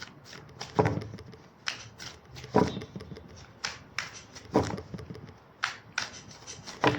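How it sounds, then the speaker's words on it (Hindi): Tarot cards are shuffled by hand, close and clear, in a rhythmic series of crisp riffling bursts about once a second, with soft handling sounds between and no talking. "Last shuffle."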